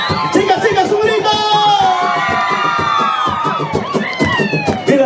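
Carnival fans of Los Apus de Perú at Hatun Pukllay in Lima shout and cheer together, high excited voices and whoops rising and falling in a loud, close crowd roar.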